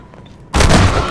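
A single loud gunshot from a weapon in Half-Life 2: Lost Coast, a sharp broadband blast after a quiet moment, followed by a sustained booming tail.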